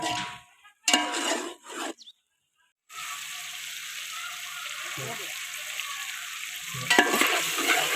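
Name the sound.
beef frying and being stirred in a pot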